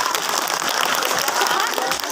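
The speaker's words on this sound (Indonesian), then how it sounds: "Tepuk tangan." Audience applause at a humorous Sundanese Islamic sermon, a steady broadband clapping wash filling the whole stretch at even loudness, with crowd murmur mixed in.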